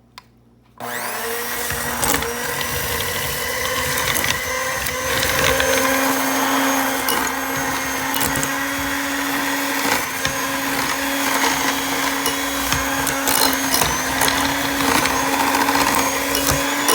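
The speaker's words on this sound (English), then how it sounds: "I'm going to take my mixer and" Electric hand mixer whirring continuously through homemade ice cream, a loud steady motor hum with scraping and clatter from the bowl, starting abruptly after a brief quiet moment and running without talk.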